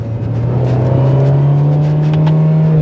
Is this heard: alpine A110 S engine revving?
yes